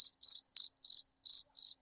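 Crickets sound effect chirping in short, evenly spaced pulsing trills, clear and isolated with silence between each burst.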